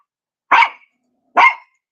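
Puppies give two sharp, loud barks about a second apart, close by with silence between them.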